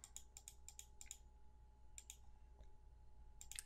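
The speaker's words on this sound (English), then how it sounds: "just click on this first one, and hit the M key on your keyboard" Short bursts of computer clicks and key taps while working in Excel: quick clusters of sharp clicks, several in a row, then pauses, with a final louder burst at the end. Near, with no talk.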